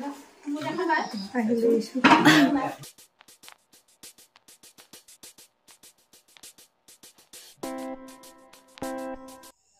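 Dishes clink and clatter in a quick, uneven series of light knocks after a stretch of talking, with a short ringing tone near the end.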